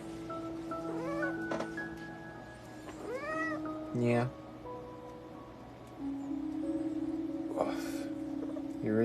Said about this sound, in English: She is a very angry kitty.